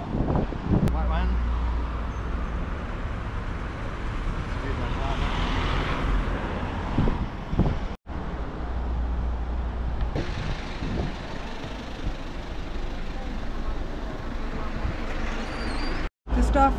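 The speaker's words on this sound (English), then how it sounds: "Lots of traffic here, eh?" Busy roadway with cars, trucks and buses rumbling past, a continuous low traffic roar with wind buffeting the microphone, steady throughout with a couple of brief dropouts.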